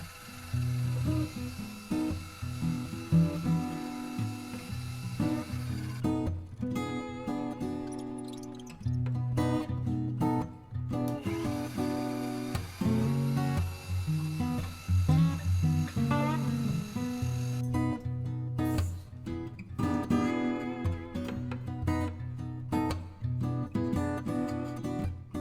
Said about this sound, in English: Now I'm drilling the 2 holes into the post.